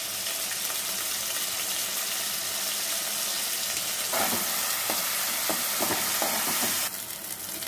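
Onions, green chillies, cloves, cardamom and cinnamon fry in a hot pan with a loud, continuous sizzle. Scattered clinks of stirring break in near the end, close up, with no talking.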